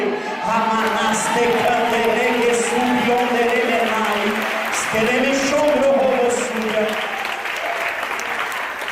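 Church congregation bursts into sustained, loud applause that fills the space, with voices and cheers mixed in throughout before it begins to thin toward the end.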